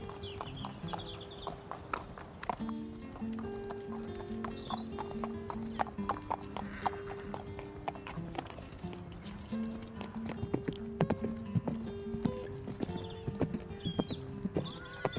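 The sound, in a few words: horse hooves clip-clopping in video game Star Stable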